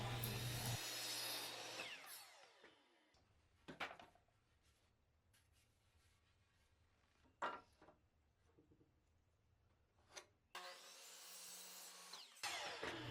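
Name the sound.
DeWalt chop saw cutting wood at 45 degrees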